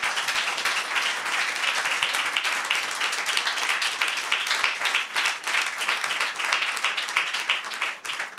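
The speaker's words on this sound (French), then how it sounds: "Je vous demande de l'applaudir" An audience applauds a jazz singer at an entertainment show, dense steady clapping filling the room throughout, fairly loud and continuous with a slight dip at the very end.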